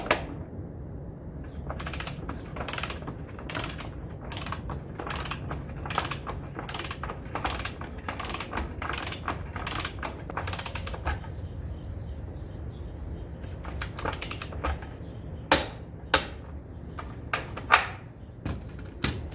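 A torque wrench ratchets an axle nut tight on a 2015 Honda CBR1000RR motorcycle, giving a quick run of close, crisp clicks followed by a few separate clicks after a pause.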